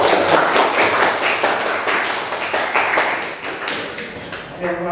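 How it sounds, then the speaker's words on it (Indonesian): A classroom of students in an Indonesian language lesson bursts into dense, close applause for a student group, steady at first and then slowly thinning out. "beri tepuk tangan untuk kelompok."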